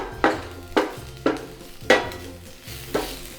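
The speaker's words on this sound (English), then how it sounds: "saute the ingredients until you can hear the poppings of mustard seeds" Mustard seeds, curry leaves and deseeded dried chilies sauté in a pan for Nyonya stir-fried cabbage with turmeric. Five spaced spatula scrapes land close over a low, steady sizzle, with no voices.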